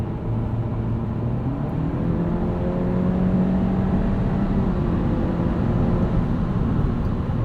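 Steady low road and engine drone inside a 2022 Honda Civic Sport Hatchback Touring with a 1.5 turbo and CVT, driving at night, with faint rising tonal whine as it accelerates and no talking.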